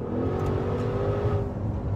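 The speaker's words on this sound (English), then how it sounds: "The exhaust sound is incredibly intoxicating, as you would expect." Exhaust of a 2020 Maserati Levante Trofeo SUV accelerating in Corsa mode, a loud, steady close engine drone rising under load with no talk over it.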